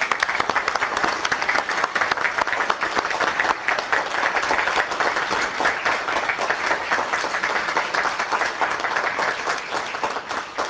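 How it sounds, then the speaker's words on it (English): Loud, sustained applause from an audience at a meeting honoring a SWAT team, dense steady clapping filling the whole stretch without letting up. "And let's give them a round of applause."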